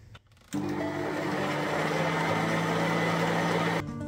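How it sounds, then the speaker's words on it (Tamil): An electric beater whirs steadily through a mix of sugar, butter and condensed milk for an eggless fig cake, starting abruptly after a quiet moment and holding a loud, even motor drone until it cuts off near the end. "இப்போ எல்லாத்தையும் சேர்த்து பீட் பண்ணி எடுக்கணும்."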